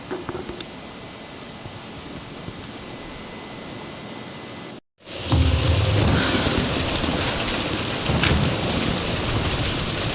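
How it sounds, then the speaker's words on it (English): Steady rain and a thunderstorm in the video game Tomb Raider, with a constant hiss of rainfall that cuts out briefly and returns louder with low rumbling thunder underneath. "We're getting closer to the storm."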